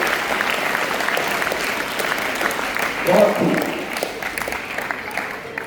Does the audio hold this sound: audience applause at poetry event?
yes